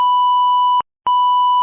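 A censor bleep over speech on a football talk show: a loud steady pure tone sounds twice, with a brief silent gap between the two.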